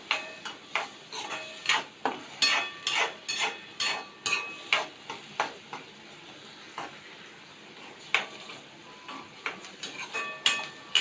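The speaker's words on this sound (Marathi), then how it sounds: "मग कांदा आणि वाटाणे एकदम आपण फ्राय करून घेणार आहोत" Onions and green peas sautéing in oil in a pan, heard as a soft sizzle under a regular series of sharp taps and scrapes from stirring, moderately close and fairly quiet.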